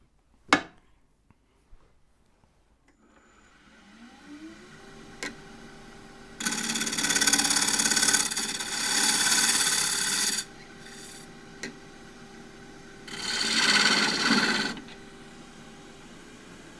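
Wood turned on a lathe with a 3/8 deep fluted bowl gouge to make a display dish, a sharp knock, then a steady hum and two long loud rasping cuts separated by quieter spinning, with no talking.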